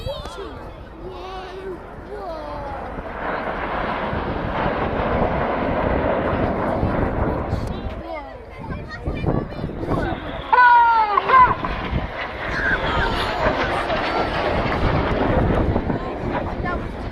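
Red Arrows display jets flying over with a Typhoon and a Harrier at the Cosford Airshow, a loud broad roar that swells and holds, with crowd babble and a public-address voice over it.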